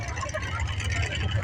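Demolition derby car engine idling and rumbling as it enters the ring at an agricultural society derby, a steady low distant drone under an announcer talking over a PA.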